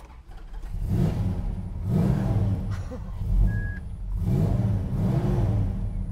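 A 1968 Dodge Charger R/T 440 V8 muscle car engine rumbles with heavy low-end growl, surging in waves as it's revved several times, loud and close.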